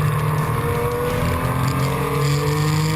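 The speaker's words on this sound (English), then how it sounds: "we see Roy Prondo in his Alfa coming under pressure from the two Mustangs" Historic racing cars at Phakisa circuit, an Alfa chased closely by two Ford Mustangs, give a loud continuous engine roar with steady tonal drone and slight pitch shifts throughout.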